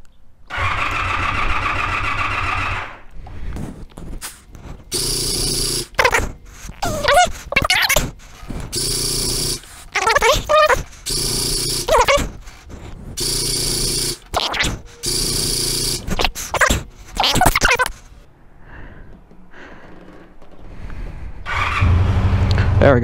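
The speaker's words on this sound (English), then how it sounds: "Let's see if this one starts really nice for me." A Honda VF500F Interceptor motorcycle engine is cranked over in repeated short bursts of starter whir and sputter with gaps between attempts. It finally catches near the end and settles into a loud, close idle.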